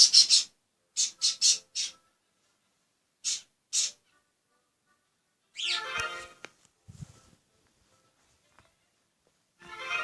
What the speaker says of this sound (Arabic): أنا هذا الطير مالتي اللي هو طير الحب